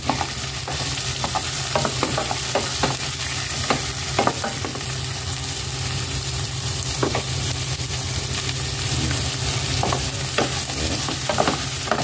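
Stingray pieces and chili frying in a pan sizzle loudly and constantly while a utensil stirs them, scraping and clattering against the metal at irregular intervals.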